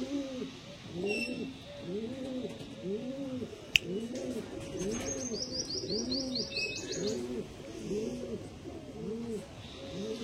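Andhra breed pigeons at a pigeon sale coo steadily in a repeated rolling rhythm, several birds close by and overlapping, with faint chirps and a sharp click in the background.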